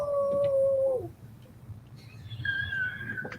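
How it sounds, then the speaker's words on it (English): A dog howls close by in two long, drawn-out tonal cries, the second pitched higher and wavering. "Are you barking again, Matt?"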